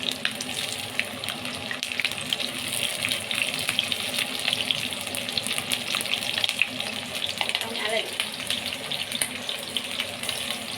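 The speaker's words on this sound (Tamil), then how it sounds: "எல்லாத்தையும் போட்டு ஒரு வதக்கிட்டு எடுத்துக்கலாம்" Grated coconut and torn green chillies sizzle in hot oil in a pan while being sautéed for mint chutney, a constant dense hiss with crackle running the whole time.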